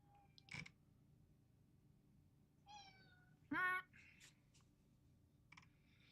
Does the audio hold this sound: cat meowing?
yes